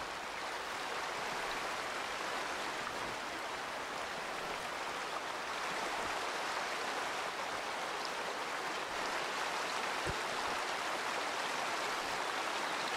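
River flowing at a bend in the hunting game Way of the Hunter, a steady broad rushing of water that stays even and unbroken throughout, with no talk.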